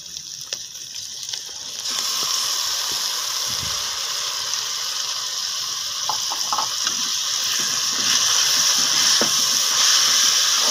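Chicken and macaroni karahi ingredients fry in a karahi with a steady, loud hissing sizzle that swells after a soft start and continues unbroken, with faint clinks of utensils.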